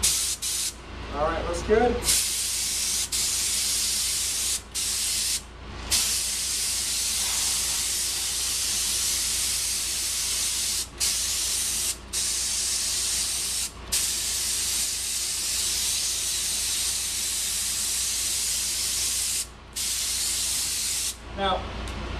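Spray gun releasing a test burst of air spray, a long continuous loud hiss with a few brief breaks, and a person speaking briefly near the start.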